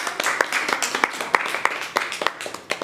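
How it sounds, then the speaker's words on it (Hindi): An audience claps steadily at an event honouring a Miss UP winner, with brisk, dense hand claps in an uneven rhythm and no talk over them. "ताली बजाओ यार"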